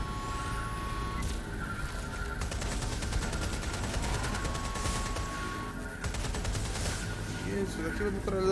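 Sustained machine gun fire in a video game, loud rapid bursts stacked into long rattling volleys with brief gaps and engine rumble beneath.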